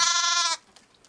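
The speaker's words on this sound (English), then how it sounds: "it's a lamb that was born on New Year's Day at a sheep farm in northern Japan" A newborn lamb with black cow-like spots gives one loud, close bleat at a sheep farm in northern Japan, then falls quiet apart from faint rustling.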